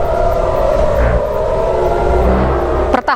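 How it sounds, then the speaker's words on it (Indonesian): Air raid warning sirens wail across Tel Aviv during an Iranian missile attack, a loud sustained tone holding steady over a low rumble, ending in a brief burst of clatter. "membuat sirine peringatan meraung di seluruh penjuru kota Tel Aviv"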